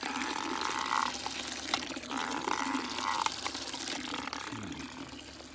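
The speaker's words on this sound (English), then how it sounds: "I'm gonna fill this bucket up for the next person." Water runs into a bucket on the Florida Trail in the Green Swamp West area, a steady, close trickle with faint outdoor background and no talk.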